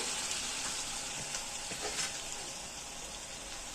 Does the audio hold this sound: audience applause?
no